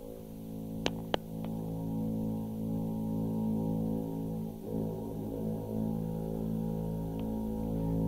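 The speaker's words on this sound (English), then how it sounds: "that's where I put the two bowed electric guitars." Low, droning bowed electric guitar tones sustain softly in layered harmony, with a few faint clicks near the start; a dark, brass-like hum, quiet and continuous.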